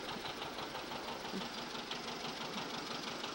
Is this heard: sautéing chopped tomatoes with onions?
no